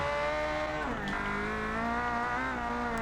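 A race car in a video game holds a long burnout at high speed, giving a loud, sustained engine drone with rising and falling harmonic pitch and a brief dip in the middle, steady throughout.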